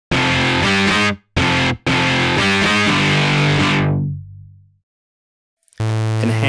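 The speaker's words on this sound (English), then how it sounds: "You get a very distorted, sort of like electric guitar distortion with this." Synth in Nanostudio 2's Obsidian with a hard distortion filter pushing it into gritty, guitar-like overdrive; loud sustained chords in three bursts, the last fading out, then silence before a fresh distorted chord.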